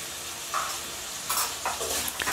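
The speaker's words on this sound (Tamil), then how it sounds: "இப்போ சிக்கன் நல்லா வதங்கட்டும்." Chicken pieces sauté in a pan for chicken semiya biryani, a steady soft sizzle with a few scraping stirs of a spoon, close and moderately quiet, no voices.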